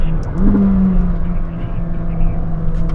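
A loud McLaren 600LT engine revs up, its pitch swooping up briefly and then holding a steady, throaty drone close by, with no talking.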